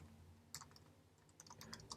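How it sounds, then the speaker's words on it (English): Computer keyboard being typed on, very quiet and close: scattered light key clicks in short irregular bursts over a low steady hum, with no talking. "I'm just going to type in for the time being"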